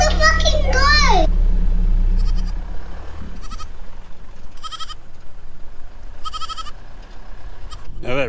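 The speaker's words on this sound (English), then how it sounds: "It's just a goat." A goat on a station property bleats loudly and up close with a wavering cry, followed by several shorter, fainter bleats spaced out over a steady outdoor background.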